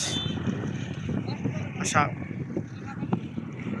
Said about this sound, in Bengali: মোবাইল লাগানো যায় না, অনেক বাতাস